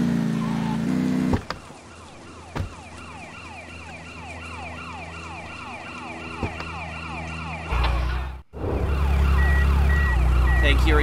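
An ambulance siren wails in GTA Chinatown Wars, a loud, repeating up-and-down sweep that runs steadily through most of the stretch, briefly cut off near the end before resuming over a low engine rumble.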